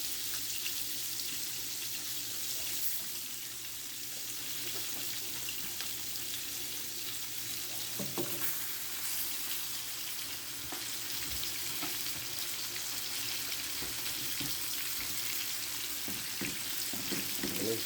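A pork chop frying in melted butter in a pan, with a constant low crackling sizzle throughout and a few soft clatters and scrapes along the way.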